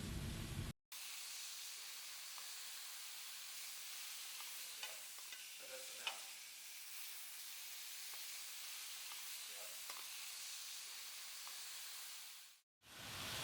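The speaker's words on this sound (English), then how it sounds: "So we'll just let that sear there." Steak sears in a hot pan with a steady, loud hiss of sizzling fat that runs unbroken for over ten seconds, close by, with faint scrapes and pops underneath.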